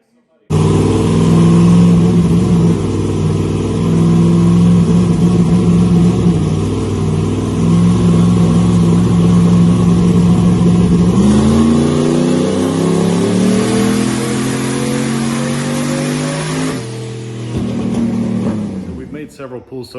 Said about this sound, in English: what we're about to do is load it in and actually try to make a real power pull on the dyno